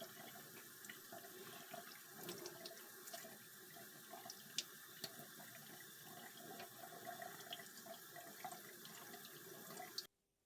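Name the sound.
water running while washing aloe vera leaves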